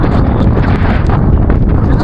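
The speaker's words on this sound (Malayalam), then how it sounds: "അതുപോലെയാണ് കാറ്റ് വീശുന്നത്." Strong wind buffets the microphone at the hilltop viewpoint of Kailasagiri, a continuous loud roar and rumble across the whole stretch, with no talk.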